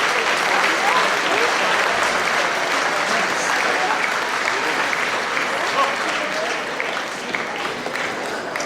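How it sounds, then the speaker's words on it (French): Audience applause at a travel-agency day event in Conthey following a prize draw: dense, sustained clapping from a large crowd that holds steady for the whole stretch, with faint voices mixed in. "Un applaudissement."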